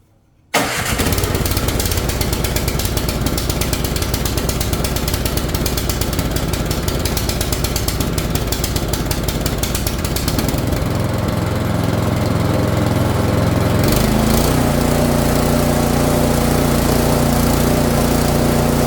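Cub Cadet snowblower engine, freshly fitted with a replacement carburetor, catches on the first pull and roars straight into a loud, steady running chatter close by, shifting pitch slightly partway as it settles, with no voices.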